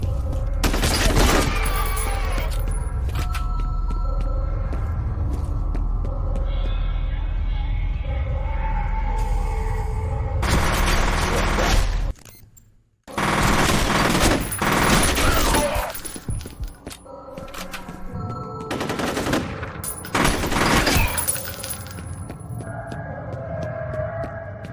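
Shotgun gunfire in a video game, loud bursts of repeated shots in several clusters with dense crashing noise between them and a short near-silent gap midway, with no one talking.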